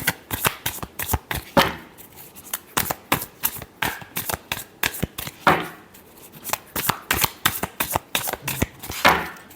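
Tarot cards are shuffled by hand in quick riffling bursts, rapid crisp clicks in irregular clusters with brief pauses, close and fairly quiet, without talking.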